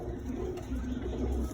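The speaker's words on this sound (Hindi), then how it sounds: "ये चेक कीजिए भाइयों, बहुत ही उम्रदराज कबूतर है" An old pigeon, around twenty-one or twenty-two years, on a rooftop gives soft, low cooing that runs steadily through a short stretch, close and fairly quiet over faint background noise.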